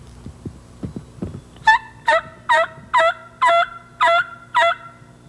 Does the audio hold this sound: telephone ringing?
no